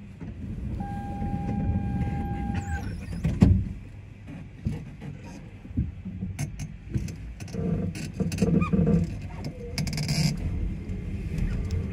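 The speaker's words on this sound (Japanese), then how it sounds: "ドアを閉めます。 閉まるドアご注意ください。" A New Shuttle automated guideway train on a snowy day closes its doors with a brief thud amid steady cabin hum, followed by rattling and rumbling as the car carries on.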